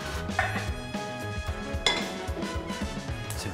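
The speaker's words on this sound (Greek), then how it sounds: "Άρα, ξεκινάμε παίρνοντας μία κατσαρόλα." A cooking pot is taken out in a kitchen at the start of making chicken soup, giving two sharp metallic clanks of pots knocking together over a steady tonal background.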